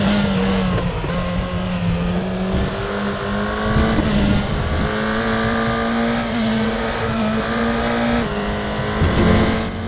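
A race car engine in the Raceroom racing game holds a steady, loud, high-pitched drone at near full throttle around 240 km/h, a sustained whine with slight pitch shifts.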